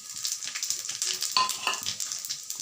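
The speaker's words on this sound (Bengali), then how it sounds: "ফোড়নগুলো দিয়ে ফোড়নগুলো একটু ভাজবো।" Whole cumin, dried red chillies, bay leaves and whole garam masala crackle and sizzle in hot oil, a close, steady spitting hiss with soft pulsing stirs running through it and no one talking.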